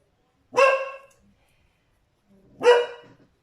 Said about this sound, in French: je vais attendre qu'elle a fini d'aboyer